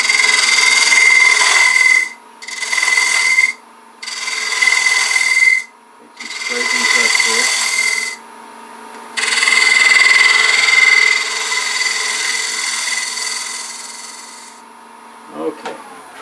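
Wood turning on a lathe while a rook-shaped pencil pot is tapered, a steady rasping, scraping cut in several bursts of two to five seconds with short pauses between, and a few faint knocks near the end.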